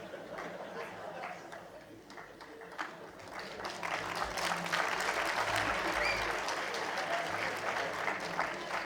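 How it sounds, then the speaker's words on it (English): An audience at a leaders forum address claps. Scattered applause swells after a few seconds into a full, sustained round of clapping from a crowd, with some speech near the start. "You're clapping."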